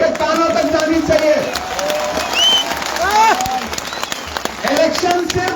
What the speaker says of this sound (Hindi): कमजोर ताली बजी है, और जोर से ताली उनके कानों तक जानी चाहिए।